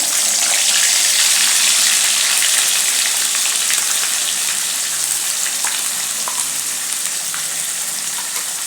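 Wet ground masala paste hits hot oil with asafoetida and a leaf already in the pan, giving a loud, steady hiss and spitting sizzle that holds throughout.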